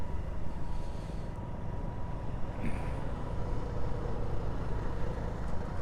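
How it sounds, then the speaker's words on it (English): Wet-road traffic on a highway route into Nepal, a steady dense rumble of cars and trucks with tyre hiss, heard from inside a moving vehicle and without talk. "I think we'll have to go through this traffic"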